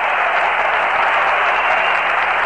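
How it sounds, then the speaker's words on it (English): A baseball crowd at Shea Stadium roars after a Tom Seaver strikeout in a Mets versus Cubs game, a loud, continuous wall of cheering and clapping with no break. "Listen to the crowd."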